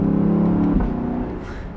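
A 2021 Lexus LC 500 convertible's V8 engine revs loud and close, a sustained throaty tone rising then easing off into a smoother whir, no talking.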